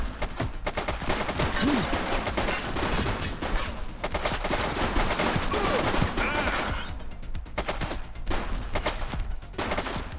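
Gunfire in The Precinct police game, dense rapid bursts of shots crackling loudly and repeatedly across the whole stretch with brief gaps, mixed with shouting and action noise.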